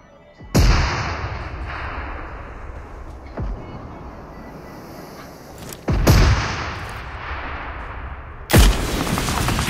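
Gunshots in PUBG Mobile ring out four times over several seconds, spaced irregularly, each a sharp crack with a trailing echo over a steady background rumble, moderately loud.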